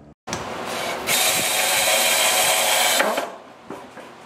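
A power drill drives a 3.5-inch deck screw into a homemade wooden sawhorse, whirring loudly and near for about three seconds, then slowing and stopping, followed by a few light knocks.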